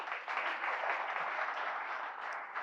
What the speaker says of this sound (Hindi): आप तालियां बजाओगे